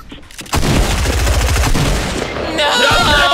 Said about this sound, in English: I'm shooting just to try and get some distraction going.